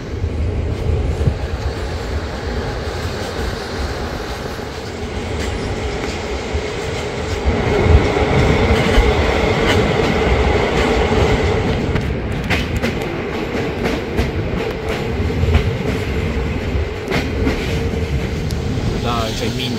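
CFR IRN 1822 Arad–Bucharest passenger train with couchette cars running along the line, a steady loud rumble and rattle of wheels and carriages throughout, with occasional clicks and faint voices in the background.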